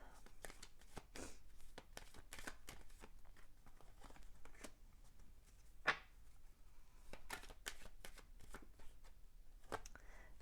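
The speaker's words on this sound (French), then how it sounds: "Je vais tirer d'autres cartes." Tarot cards being shuffled and drawn, with repeated soft papery riffles and flicks spread through the stretch, fairly close and quiet, and one sharper snap near the middle.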